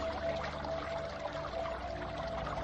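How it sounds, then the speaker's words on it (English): Water in a muddy, hellish swamp of the underworld bubbles and churns in a continuous, dense wash of sound, steady and fairly close, with no voices. "It is they who make the water bubble on the surface"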